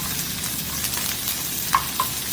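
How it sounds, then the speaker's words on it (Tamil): Cashew nuts and curry leaves frying in oil in a pan for Bisibela bath, a steady soft sizzle with a couple of small pops near the end, close and alone without talk. "அதோட கொஞ்சம் கருவேப்பிலை போட்டு நல்லா கோல்டன் ரெட் வரைக்கும் நல்லா ஃப்ரை பண்ணுங்கள்."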